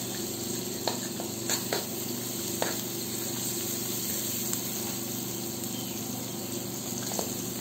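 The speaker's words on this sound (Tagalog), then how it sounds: "dito na rin tayo maggisa. Ayan, binawasan lang natin ng mantika kasi medyo marami. Ayan, nilagay na natin ang hiniwang bawang." Sliced garlic sautés in oil in a pan for pork binagoongan, a soft, steady sizzle and crackle with a few faint utensil taps, quiet and close with no voices.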